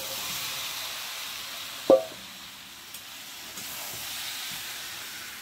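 Masala with potatoes and eggs frying in a pan, giving a steady close sizzle with one sharp utensil clank early on and a few softer knocks later.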